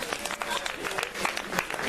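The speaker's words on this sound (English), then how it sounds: "Let's give them a round of applause for that." Audience applause at a motivational keynote talk, a steady wash of many hands clapping at moderate level throughout, with some speech-like sound mixed in.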